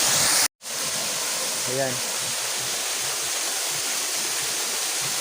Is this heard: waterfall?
yes